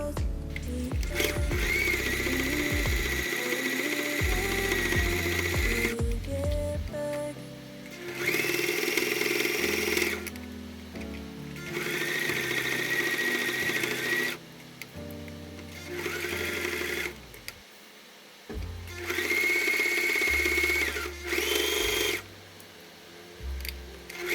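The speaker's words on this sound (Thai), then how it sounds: "แล้วก็นำไปเย็บนะคะ โดยที่ เราจะยึดจากตัวตะเข็บที่เราเห็นเนี่ยนะคะ เราก็จะเย็บทับรอบตะเข็บนี้เลยค่ะ" A sewing machine stitches around the seam of a fabric beret in several separate loud bursts, each lasting a few seconds, with quieter pauses of handling and fabric rustling between runs.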